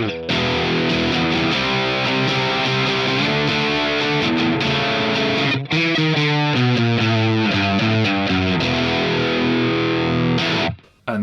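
Loud, crunchy distorted electric guitar through a Boss DS-1 distortion pedal set at 12 o'clock, strumming sustained chords, then picking a brighter riff, with a short pause midway and a quick cut at the end.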